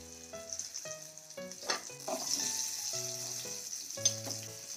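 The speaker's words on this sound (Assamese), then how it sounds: "পটল ভাজাটো হৈ গৈছে, নমাই দিওঁ।" Tender pointed gourd (potol) fries in spiced oil with a steady bright sizzle, while someone talks over it throughout.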